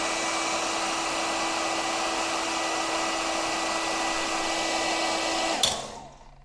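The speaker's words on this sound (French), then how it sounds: "On essaie le sèche-cheveux." A hair dryer runs off a portable battery power station, blowing with a steady, loud whirring hiss for several seconds, then cuts off abruptly with a click and winds down into quiet.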